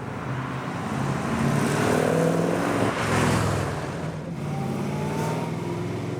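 Stroker car engine with a fair-sized camshaft and a few extra cubic inches, heard from inside while driving: a loud, steady throaty rumble that swells under throttle, dips briefly and settles back into a firm cruise.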